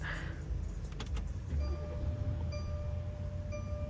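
A Mercedes S550 starts up very quietly inside the cabin: a few faint clicks and a brief starter whir, then a soft low idle rumble with faint electronic tones.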